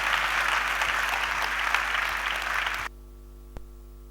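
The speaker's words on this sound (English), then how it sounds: "let your applause be big" A church seminar audience claps in a loud, sustained burst of applause to welcome a speaker, then it cuts off abruptly into near silence, broken by one faint knock.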